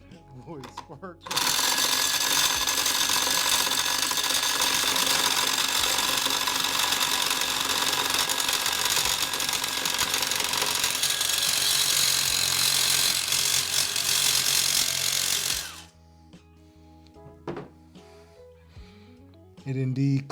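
A Sawzall with a bimetal blade saws through a titanium Apple Card, a loud harsh buzzing and grinding that runs steadily for about fourteen seconds after a brief start, then stops, leaving clatter and people talking.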